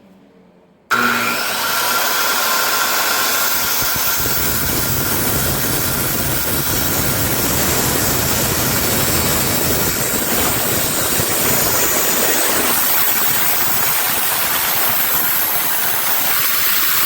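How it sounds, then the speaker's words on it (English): A belt sander runs across a live edge wood slab for a waterfall sofa table, giving a steady, loud, continuous whirring grind that starts abruptly after a second of quiet and holds without a break. "One run with the belt sander."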